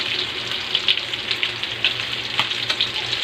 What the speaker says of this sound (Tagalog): Nagluluto ako ngayon chicken.